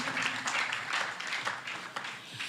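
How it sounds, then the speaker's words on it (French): Audience applause at a modern gospel music talent show, a dense patter of clapping with a faint voice mixed in. "Ashouza, tu étais déjà en train de t'applaudir"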